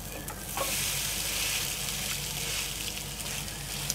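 Papad omelette flipped in a hot pan, giving a loud, steady, close sizzle that holds throughout with only slight swells and no speech.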